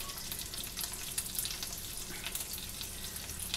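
Bacon and scrambled eggs fry on a hot comal with a soft, steady sizzle and crackle, fairly quiet and close, with small popping spikes and no speech.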